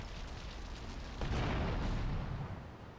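A deep explosion in Grand Theft Auto: Vice City booms and rumbles for about a second and a half over a constant low ambient drone, with no voices.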